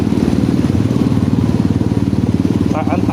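Motorcycle engines putter and rumble with a fast rhythmic chug, nearby and steady, at a fishing spot in Calumpit, Bulacan, with a brief bit of background noise near the end.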